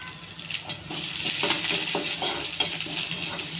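Cumin, dal and curry leaves crackling in hot oil while a spoon stirs and clinks against the pan, a loud, close and steady sizzle.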